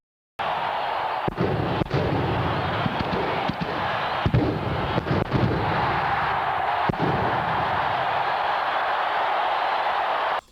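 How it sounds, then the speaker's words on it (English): A box of disco records blown up on a stadium field at a disco demolition night: a dense, sustained crowd roar, with scattered sharp bangs and thuds running through it, heard at a distance. "After detonation, records were sent flying into the sky."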